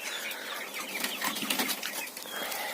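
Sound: quail chicks

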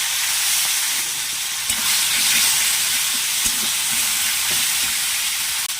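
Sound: bay leaf sizzling in fish oil in a pan

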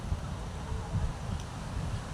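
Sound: wind blowing at the seashore

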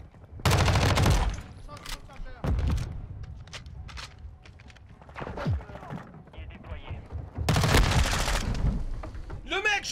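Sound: MP5 gunfire in Call of Duty Modern Warfare 2 video game

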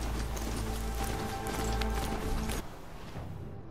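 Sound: mount galloping, hooves clip-clopping, from the video game Horizon Zero Dawn

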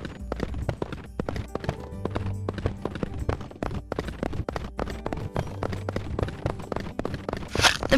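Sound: horse hooves in video game

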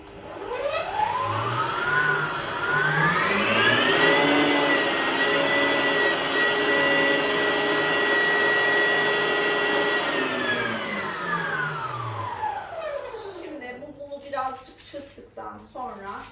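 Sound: electric mixer beating cake batter

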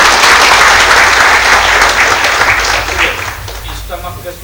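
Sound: audience applause

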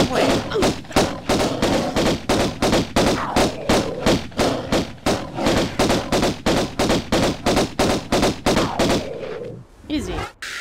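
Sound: gunfire shooting at gorillas in Tomb Raider video game

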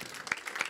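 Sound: council meeting audience applauding

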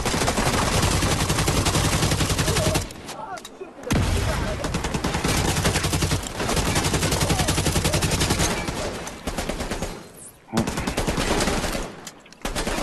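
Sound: shotgun gunfire in video game The Division 2

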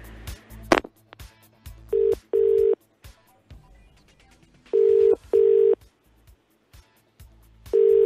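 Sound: telephone ringing on an outgoing call

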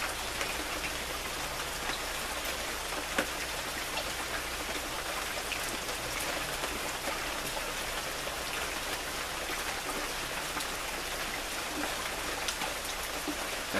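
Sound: rain falling

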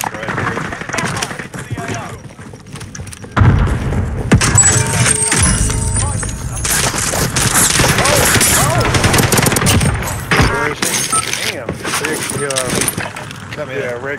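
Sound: ray gun firing in a video game

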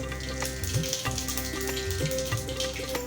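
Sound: cumin and mustard seeds sizzling in hot oil

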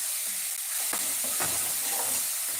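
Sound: ingredients for egg gravy sautéing in pan

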